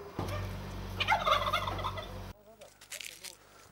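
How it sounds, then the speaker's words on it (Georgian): Turkeys gobble in a loud, rapid burst over a low hum in a Georgian village farmyard kept with chickens, then the gobbling trails off into softer, scattered bird calls. "ეს ქათმები და ინდაურები ბევრი არის."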